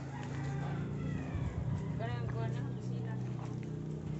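Rhode Island Red chickens cluck and a rooster crows amid a steady engine-like hum, with someone talking over the birds throughout.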